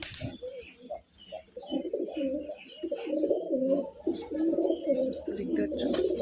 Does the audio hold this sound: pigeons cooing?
yes